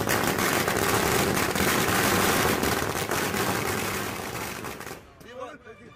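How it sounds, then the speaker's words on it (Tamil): Firecrackers set off by farmers in celebration crackle in a dense, loud rapid burst for several seconds, then fade out to quieter background sounds. "விவசாயிகள் நேரடியாக வேளாண் விரிவாக்க மையத்திற்கு வந்து பட்டாசு வெடித்து மகிழ்ச்சியை வெளிப்படுத்தினர்"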